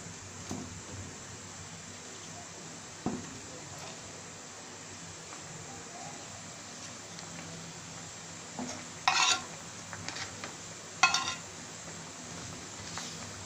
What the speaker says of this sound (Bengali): নেড়ে চেড়ে মাছগুলো দিয়ে দিব, যে ভাজা মাছগুলো রেখেছিলাম পাঙ্গাস সেগুলো দিয়ে দিব